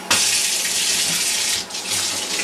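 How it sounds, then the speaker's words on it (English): Tap water gushes loudly and steadily onto a sheet of watercolour paper held beneath it, a broad continuous splash that dips briefly as the paper shifts, with no voices. "run the tap"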